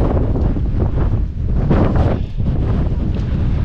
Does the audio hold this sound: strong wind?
yes